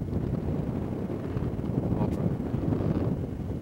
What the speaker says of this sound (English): It's so windy, you're not going to hear anything.